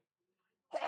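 A person sneezes once, a brief, sudden burst up close that cuts in after near silence.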